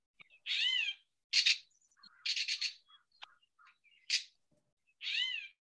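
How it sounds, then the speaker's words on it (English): A gray catbird gives a series of nasal, kitten-like mewing calls mixed with short chattering notes, clear and fairly close against a quiet background. "that catbird has a very cat-like or kitten-like sound that it makes"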